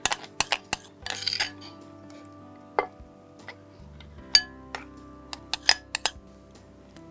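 A spoon clinks against a glass or bowl while mixing a drink of fermented rice water with curd and chilli, in scattered sharp taps with quiet gaps between.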